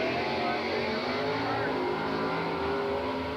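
Big-block Chevy Vega drag car with a 450-plus cubic inch rat motor and wheelie bars, racing down the strip at the 1983 Englishtown Springnationals; a loud, steady engine roar fills the whole stretch without a break.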